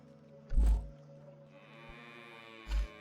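Cows in the video game Scrap Mechanic give two loud, close synthetic moos, one long and one short, with a quiet game hum and a faint tone running between them.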